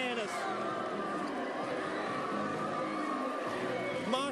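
A school gym crowd cheers wildly at a high school basketball pep rally, a dense roar of shouting voices with a commentator talking over the noise.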